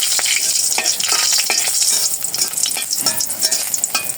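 Shapla (water lily stems) fry in oil with a little mustard paste, a loud, continuous sizzle broken by repeated scraping strokes of stirring throughout, with no voices.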